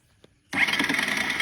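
A faulty, overheated vehicle engine gives a brief click, falls silent, then suddenly catches and roars into a loud, steady running drone.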